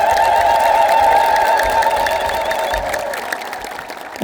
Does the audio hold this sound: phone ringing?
no